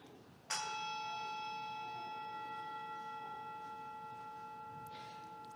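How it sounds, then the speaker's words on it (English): A meditation gong is struck once, its bright metallic onset ringing into a long, steady, slowly fading sustain with clear overtones, heard alone in a quiet room. "Grandfather rang the gong to end the meditation."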